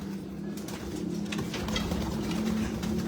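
Pigeons coo steadily in a breeders loft, a low continuous murmur of several birds calling close by with no talking over it.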